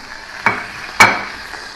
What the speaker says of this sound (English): we have some sausage coming out of the oven, sizzling.